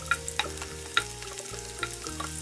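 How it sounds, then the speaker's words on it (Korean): Garlic fries steadily in hot oil in a pan, with a few sharp clicks of a utensil against the pan. "팬에 기름을 두르고 마늘을 넣어 튀기듯이 익혀주세요."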